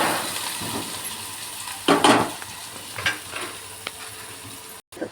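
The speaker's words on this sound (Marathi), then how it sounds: "आता तेला टाकून कांदा टाकूया." Chopped onion fries in hot oil in a pan while being stirred, a soft sizzle under scattered scraping and clinking spoon strokes against the pan.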